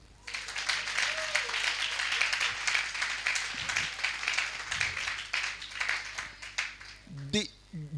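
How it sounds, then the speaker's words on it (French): A crowd applauds and cheers, a steady wash of clapping that swells and ebbs for several seconds, with a voice breaking through near the end. "C'est dur, mais acclamez quand même."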